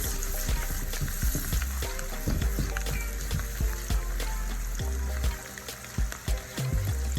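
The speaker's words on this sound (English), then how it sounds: "we're just gonna saute these veggies real quick" Garlic, onion, cilantro and cherry tomatoes sauté in a pan for garlic butter shrimp, giving a steady close sizzle with scattered crackles and pops that stay loud and busy throughout.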